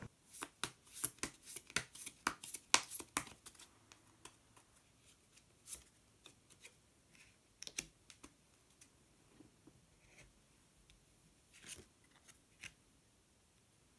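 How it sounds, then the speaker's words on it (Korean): Tarot cards are drawn from a deck with a quick burst of crisp shuffling flicks and snaps, then sparse faint card taps and slides in a quiet room. "마지막으로 마법사 카드 한 장 더 뽑아보도록 하겠습니다"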